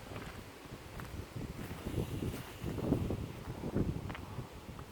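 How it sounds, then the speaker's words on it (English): Outdoor wind out of the east-southeast on a mild 64°F day, a steady low rumble that buffets the microphone in uneven gusts, swelling louder toward the middle and end. "Wind's blowing out of the east-southeast"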